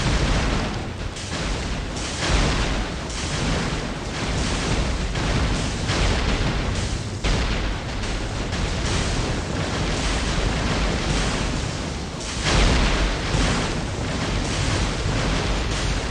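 Dense, overlapping bursts of booming explosions from the mobile survival game Magic Survival, many red blasts going off in a relentless rumbling stream, loud and continuous with no voice over them.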